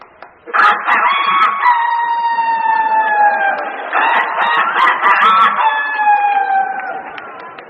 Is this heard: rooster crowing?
yes